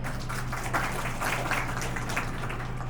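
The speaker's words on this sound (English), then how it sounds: "A big round of applause for all" An audience at a school show-and-tell event with a birds theme claps in a steady, dense patter, sustained for several seconds over a low electrical hum.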